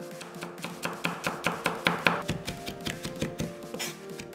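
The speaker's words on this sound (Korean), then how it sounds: "통마늘 2개는 다져서" Rapid knife chopping on a board, two whole garlic cloves being minced in quick, steady taps with soft background music underneath.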